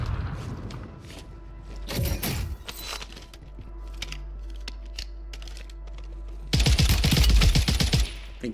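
Video game gunfire rings out in short bursts, one near the two-second mark and a longer loud rattling volley toward the end, with quieter clicks and ambient game sound in between.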